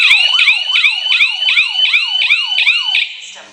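A loud smart home security alarm siren, triggered by a keypad SOS button, wailing in fast repeated up-and-down sweeps, about nine cycles, then cutting off abruptly.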